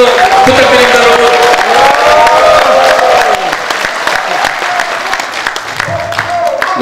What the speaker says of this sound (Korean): 우리 박광훈 최고위원님께 큰 박수 한번 부탁드립니다, 여러분.